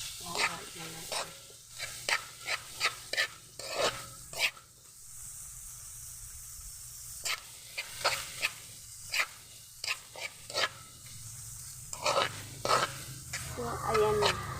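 Onions are stirred in a frying pan, with a steady sizzle under repeated scraping strokes of a utensil; a quieter stretch of plain sizzling comes in the middle, and there is no talk.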